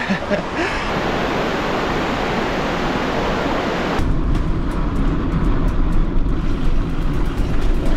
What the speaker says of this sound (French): Je sais pas si vous m'entendrez avec l'écluse là qui fait du bruit.